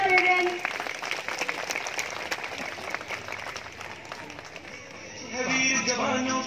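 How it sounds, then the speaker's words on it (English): Parents clap for a children's patriotic medley performance at a school event, a dense round of applause filling the room, easing off before music and singing rise near the end. "Please give a huge applause, parents."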